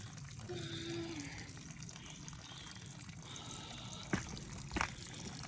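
Steady water trickling and splashing from a piped backcountry spring, continuous and close, with a couple of sharp clicks near the end.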